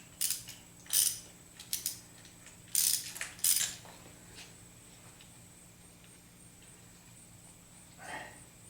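A hand ratchet turns a 9/16 socket on a 1/4 inch drive while working on a 1976 Corvette restomod engine bay to find a coolant leak. Several short bursts of close, crisp clicking are separated by pauses, with a faint final burst.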